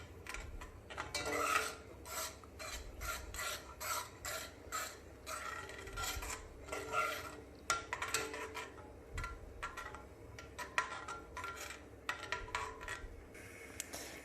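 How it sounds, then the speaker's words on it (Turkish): A spoon stirs yogurt into milk curdling in a pot, giving quiet, repeated scraping and rubbing strokes in an irregular rhythm, close and soft, with no talking. "ve karıştırmaya devam edeceğim"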